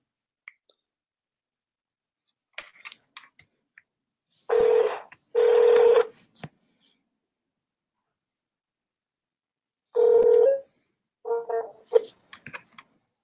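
Dialing a phone call, short beeping tone bursts, two near the start and more later, separated by quiet gaps with faint taps, close and clear with no talking.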